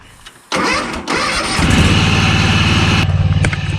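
A lawn mower engine is started with a pull cord: a brief rasping pull, then the motor catches and settles into a loud, close, steady putter that falters near the end.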